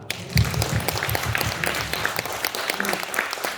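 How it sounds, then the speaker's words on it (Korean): An audience at a Korean Christian cultural lecture applauds, a dense, continuous patter of many hands that holds steady for several seconds. "박수."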